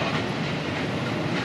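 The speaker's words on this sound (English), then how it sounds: "It's a lot of trains." BNSF freight trains passing, including a heavy grain train: a loud, dense, continuous rumble and rattle of railcars rolling by close at hand, steady throughout with no voices.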